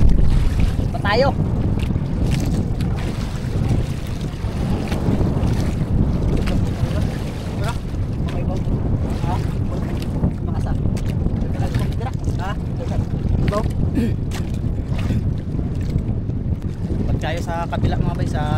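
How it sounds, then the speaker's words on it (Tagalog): Small boat out on open water toward Virgin Island, steady wind buffeting and water rush throughout, with people shouting and talking over it. "Okay, nandito na tayo sa bangka maliit."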